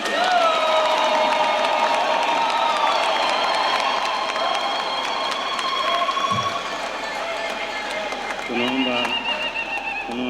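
Applause and cheering from a congregation at a Catholic ordination of priests led by Archbishop Kinyaiya, a dense, steady wash of clapping with excited voices and ululation rising above it throughout.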